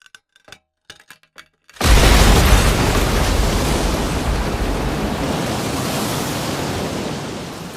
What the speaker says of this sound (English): 1 million liters of water rush through the hotel lobby like a tsunami.